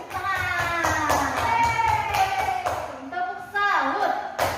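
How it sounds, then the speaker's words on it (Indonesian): A class of students claps together in a schoolroom, with rhythmic hand claps mixed under loud overlapping voices and chanting throughout. "Beri tepuk tangan."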